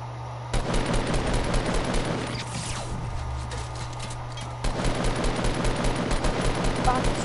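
Rapid bursts of automatic gunfire in a shooter video game, loud and rattling, run through most of the stretch with a quieter gap in the middle, and players can be heard talking.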